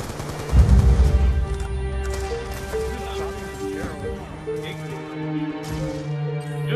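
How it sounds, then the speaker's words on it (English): Gunfire from a KSV gun in a video game, a loud burst at the start followed by continuous layered game sound with tonal music-like elements and scattered shots. "He keeps shooting at that fucking KSV."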